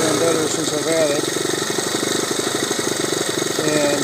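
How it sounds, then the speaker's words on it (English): A Honda CT90 trail bike engine idles steadily nearby, a rapid, even putter with a slight uneven lope, while someone talks over it. "I'm just working out some of the carbon that's been built up in this engine that's sitting around, and it's been idling better and better since I've had it."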